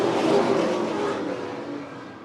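Super Late Model stock cars roar past at racing speed under the green flag, a loud, dense engine wash that slowly fades as the pack moves away.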